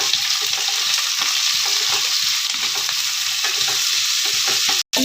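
Sliced onions frying in a little oil in a pan alongside roasting chana dal, a loud steady sizzle with a few stirring scrapes and a brief clank near the end.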